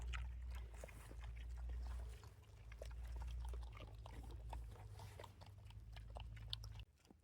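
Pigs feed noisily on a small farm in frozen weather, with chewing and snuffling over a steady low engine drone, with scattered clicks and clatters throughout.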